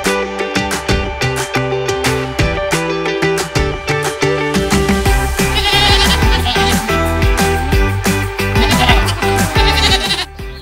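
Goats bleat in the wild Ardèche gorges past the Pont d'Arc, with repeated loud wavering calls crowding together over ten seconds with no pauses.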